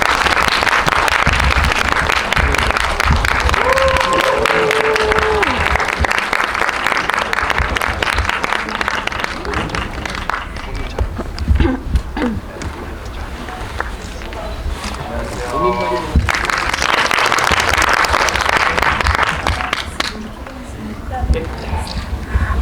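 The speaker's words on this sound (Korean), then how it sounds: "큰 박수로 환영해 주시기 바랍니다." An audience in a cinema hall applauds as guests are welcomed onstage at a film event in Seoul, giving a sustained, loud wash of clapping and cheering with a host speaking over it at points.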